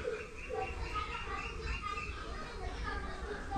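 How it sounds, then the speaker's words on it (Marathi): Birds chirp and call in a green, grassy outdoor spot beside a home kitchen, a steady bed of light twittering at moderate volume, with some faint voices mixed into the ambience. "मस्त आवाज आहे ना पक्ष्यांचा."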